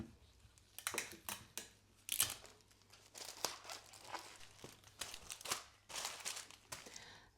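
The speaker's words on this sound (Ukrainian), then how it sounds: "Тут я закриваю скотчем." Crinkly tearing and rustling of adhesive tape being pulled and pressed down on a marshmallow-lily flower arrangement, in short irregular bursts, close and fairly quiet.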